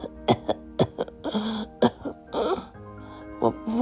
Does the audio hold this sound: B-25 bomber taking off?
no